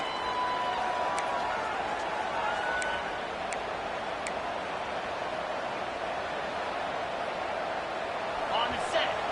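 Steady stadium crowd roar at a college football video game, heard late in the first half as the defense faces a red-zone stand; the broad wash of noise holds evenly throughout, with a few faint ticks on top.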